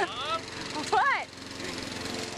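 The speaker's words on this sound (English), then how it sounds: "You look this good mowing the lawn." A lawn mower runs steadily with a droning engine hum, while a person speaks briefly over it and an excited whine or yelp cuts through near the middle.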